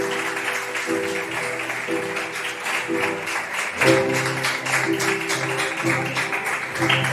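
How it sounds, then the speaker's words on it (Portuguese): A church congregation claps in praise during a worship service, dense and steady throughout, with sustained organ or keyboard chords and a brief swell midway. "dê para o Senhor uma linda salva de palmas"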